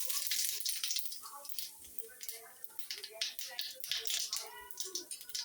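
Cumin seeds crackle and sizzle in hot oil, a bright, steady hiss with small pops, fairly quiet and partly under a speaking voice.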